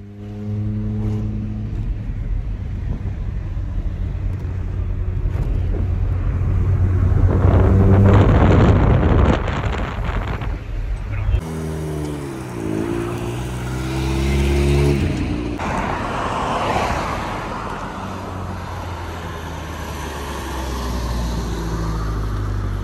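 Volkswagen MK1 Rabbit on its first test drive, engine droning steadily with a swell of revving midway, wind buffeting the microphone and road noise throughout, no talking.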